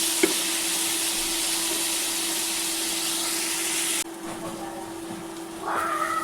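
Slices of bitter gourd (karela) fry in a pan with a steady, even sizzle that drops in level partway through. A light knock comes near the start and faint higher sounds come at the end.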